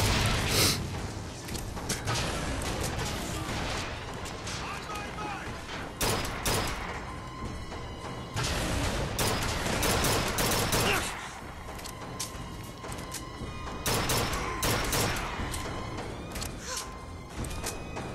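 Shotgun blasts ring out during combat in the video game Bioshock Infinite, several loud sharp booms spread across the passage amid game noise, with a player's voice talking now and then.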